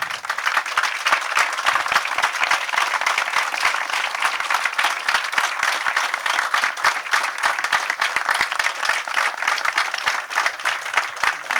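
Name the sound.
applause at memorial ceremony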